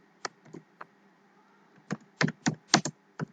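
Computer keyboard typing Java code, with scattered single clicks followed by a quicker cluster of close, crisp keystrokes and short pauses between them, no talk.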